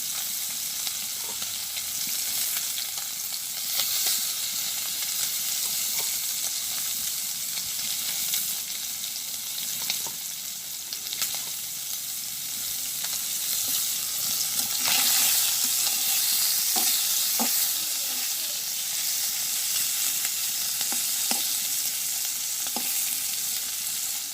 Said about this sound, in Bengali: তো আমার এই মাছগুলো হয়ে গেছে ভাজি